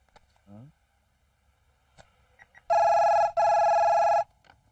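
A telephone rings twice in loud, steady electronic bursts after a few quiet moments with faint voices and small clicks.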